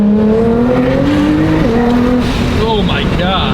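A tuned all-wheel-drive Nissan GTR accelerates hard, loud and close, its engine note climbing in pitch through quick gear shifts. Excited voices talk over the roar.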